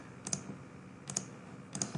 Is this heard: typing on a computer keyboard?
yes